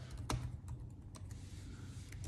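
A mouse button clicking on an approve button at a computer, heard as a few sharp, close, quiet clicks with soft desk and room sounds between them.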